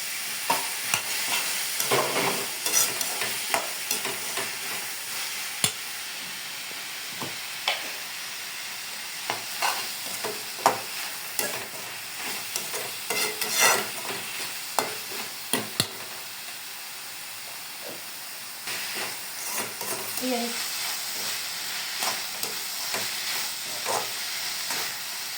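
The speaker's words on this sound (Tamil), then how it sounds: "இப்போ தக்காளியை போடுவோம்." Tomatoes and vegetables frying in a pan and being stirred, soft steady sizzle under scattered scraping and clinking of the spoon against the pan, with no talk.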